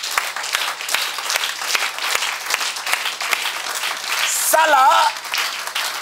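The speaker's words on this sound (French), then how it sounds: "Acclamez un peu pour Jésus." Church congregation applauding and cheering for Jesus, a dense sustained wash of clapping throughout with a brief voice rising near the end.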